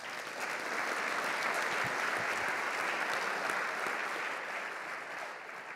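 An audience at an MIT Quest for Intelligence launch event claps steadily to welcome the panelists, dense and sustained for several seconds before tapering slightly at the end.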